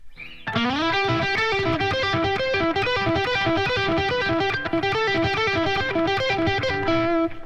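Electric guitar with a driven, effected tone plays a fast run of quick pull-off licks, a dense steady stream of notes for several seconds, loud and up front with no voice.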